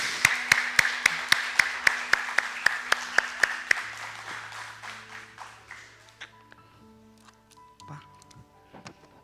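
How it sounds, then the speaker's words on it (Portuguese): Church congregation at a missions service clapping together in a steady, rhythmic beat that thins out after about four seconds, leaving scattered claps over low sustained instrument tones. "Uma salva de palmas ao Senhor."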